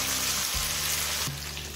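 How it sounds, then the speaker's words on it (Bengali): Ginger sautéing in a pan for vegetarian Gobindobhog rice khichuri, a steady close sizzle of frying with a brief stir partway through, no voices. "আদার কাঁচা গন্ধ চলে যাওয়া পর্যন্ত কষিয়ে নিলাম।"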